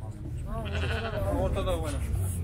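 Sheep bleat at a busy livestock market, several wavering cries overlapping one after another amid the crowd noise, with people talking throughout.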